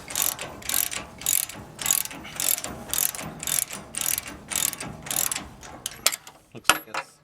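A hand ratchet works loose a captive nut on an ASV PT-100 forestry skid steer during a coolant leak repair, giving about a dozen rhythmic bursts of clicking, then a few sharper metallic knocks, close and alone.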